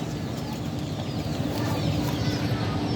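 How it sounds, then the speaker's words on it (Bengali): Two Tiger-breed desi hens and a rooster cluck inside a cage, their soft calls running continuously over a dense, steady background hum at close range. "আমার দুটা টাইগার মুরগি একটা মোরগ"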